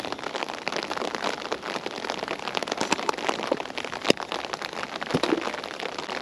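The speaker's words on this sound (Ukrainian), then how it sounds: "А який дощ пішов" Steady late-October rain patters densely on a surface close by at a fishing pond, with occasional louder individual drops standing out.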